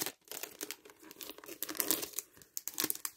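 Paper crinkles and rustles close by in quick irregular bursts as a parcel is unpacked, with brief tearing-like crackles, no voices.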